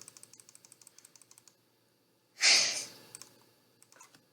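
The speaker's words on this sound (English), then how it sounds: "I'm just going to type it." Quick, light clicks of typing on a computer keyboard patter along for a second and a half, give way to a loud breathy sigh, then a couple more faint keystrokes follow in a quiet room.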